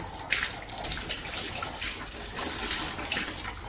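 Tap water running steadily into a household overhead tank after the motor is switched on, a continuous hissing splash at moderate level with no voices.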